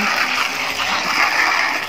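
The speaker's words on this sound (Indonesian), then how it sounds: "saya semprot seperti ini dulu, nanti terakhir baru kemudian saya siram" A hand sprayer mists water over anthurium leaves in a continuous hissing spray lasting a couple of seconds, close and fairly loud, with no talking.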